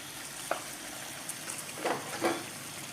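A tablespoon of butter hitting a hot pan while making chicken do pyaza gives a soft, close sizzle, quiet and steady, with a few light scraping stirs on top.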